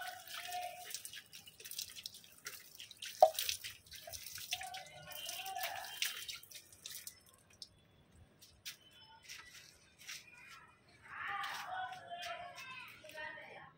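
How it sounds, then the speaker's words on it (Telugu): Water from a shower spraying onto a hibiscus plant infested with mealybugs. It comes as quiet, intermittent spattering and dripping that rises and falls in bursts, with a person talking over it. "సో ఇలాగా షవర్ ప్రాసెస్ అనేది మీరు చేయొచ్చండి."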